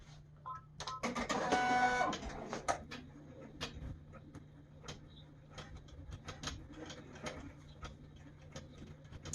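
An embroidery machine stitches an in-the-hoop stuffed toy design, a quiet steady series of rapid ticking needle strikes with a brief louder whirring burst near the start.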